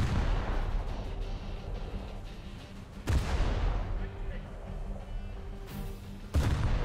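Naval gunfire from the destroyer HMS Abdiel in War Thunder: two heavy booming salvos about three seconds apart. Each breaks sharply over a low rumbling sea-battle background and then trails off.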